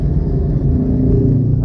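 Steady low engine rumble from cars idling and creeping in a traffic jam, close and continuous, with people talking over it.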